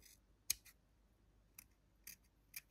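Scissors snipping fabric while trimming a Christmas tree ornament decoration, one sharp close cut followed by a few lighter snips spaced out over a quiet background.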